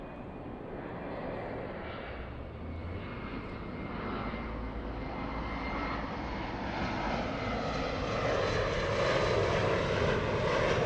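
An airplane arriving at LAX, a steady broad engine roar that builds gradually over several seconds as the aircraft approaches, with no voices over it.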